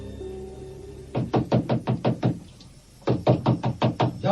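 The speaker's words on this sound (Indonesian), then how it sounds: "Tengah malam, Jaka mendengar ketukan pintu yang bertubi-tubi." Rapid, forceful knocks on a door, a first burst of about ten quick blows, a short pause, then another burst of about seven, loud and near with no voices.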